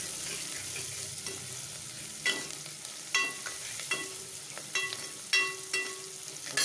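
Curry leaves dropped into hot oil in a pan, a steady soft sizzle with several sharp crackling pops and spits at irregular intervals, close and fairly quiet, with no talking.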